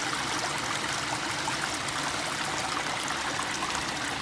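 Water rushes steadily through a laboratory flume and spills over a jump in the channel, making a constant, even, close-up wash with no talking.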